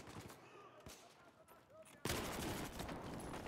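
Gunfire in Battlefield 4: scattered distant shots, then a sudden loud burst of heavy automatic fire that continues steadily, with some talk early on.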